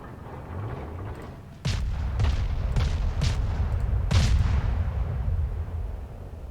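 A torpedo striking an enemy ship in the naval battle game World of Warships, sounding as a sudden heavy boom followed by a run of four or five deep, rumbling explosions over a continuous low roar.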